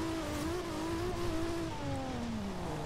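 Race car engine in the video game Forza Horizon 2, a continuous droning motor tone holding steady then sliding lower as it shifts, constant and fairly loud throughout.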